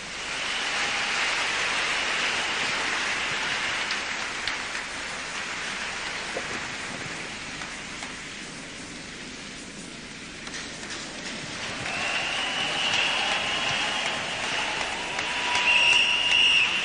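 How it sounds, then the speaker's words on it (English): Church congregation applauding as a round of applause for Jesus, a loud, sustained wash of many hands that dips midway and swells again toward the end, with no speech over it. "Give Jesus a round of applause, please."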